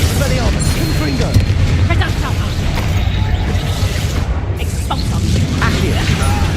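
Bombarda and Confringo spells burst in Hogwarts Legacy video game combat, a loud dense run of booms and pops over a constant rumble, with a voice calling out across the fight.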